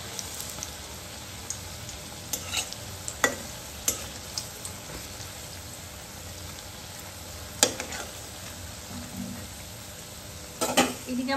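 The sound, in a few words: fritters (phuluri) frying in hot oil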